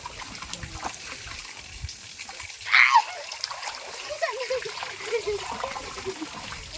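Tap water filling a small home pool, a splashing and trickling stream with a brief louder splash midway, heard under people talking.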